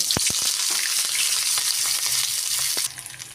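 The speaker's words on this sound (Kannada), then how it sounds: "ಒಂದು ಬಾಡ್ಲಿ ಇಟ್ಟು ಅದ್ರಾಗ ಸಾಸಿವೆ ಹಾಕಿದ್ರಿ ಫ್ರೆಂಡ್ಸ್ ಈಗ ಈ ಮಸಾಲೆನ ಹಾಕೊಂಡು" Mustard seeds and masala frying in hot oil in a pan for shavige uppittu: a close, steady sizzle dotted with sharp pops and crackles, easing to a quieter hiss near the end, with no talking.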